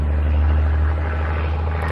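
A small camera drone whirs with a steady, loud rotor drone and a dense low hum that stays level and close throughout.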